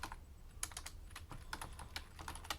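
Quick, soft keystrokes on a computer keyboard tap in an uneven rhythm, close and quiet, with no talking.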